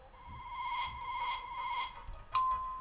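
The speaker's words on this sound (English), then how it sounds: "A wind chime will tinkle away whenever a breeze passes" Metallic wind chimes ring out in a few sustained, tinkling tones that swell and overlap, then a bright new strike near the end, from the educational video game Jumpstart 3rd Grade.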